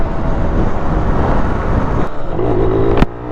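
A Yamaha ZR 125 scooter rides at high speed, its engine and road noise forming a loud, steady roar with a brief higher whine near the end.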